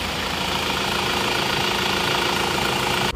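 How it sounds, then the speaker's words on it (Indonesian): A rebuilt engine from Sidoarjo with a new liner and rings runs steadily at idle. The drone is loud, close and continuous, with a fine rapid knock, and it cuts out abruptly at the end. "Sekarang kita akan mencoba mesin ini yang dari Sidoarjo."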